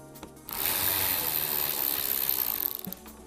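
Ratchet with an 8 mm socket spinning out trunk panel bolts on a GR Corolla, a close, steady burst of fast clicking and whirring that runs for a few seconds after a short pause.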